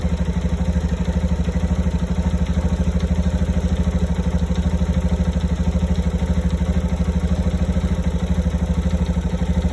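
Motorcycle engine running steadily at a low, throbbing idle with a fast even pulse, close and loud throughout, no clear rise in revs; its battery is suspected weak with poor charging.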